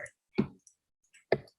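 Computer mouse clicks during a design software tutorial, two or three sharp, close clicks separated by brief silences, with no one speaking.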